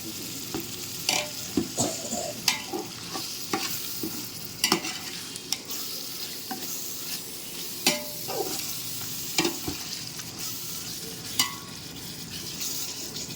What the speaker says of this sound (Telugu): రెండు టమాటాలు వేసాను ఇది కూడా కొంచెం వేగాలి